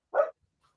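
A single short, faint bark or yip from a pet dog begging for dinner, followed by quiet.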